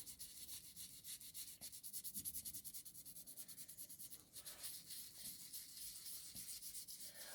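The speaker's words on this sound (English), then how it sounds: "just very carefully and gradually start sanding." Quiet, repetitive rubbing strokes of fine sanding on Milliput epoxy putty on porcelain, soft and close, in a steady back-and-forth rhythm.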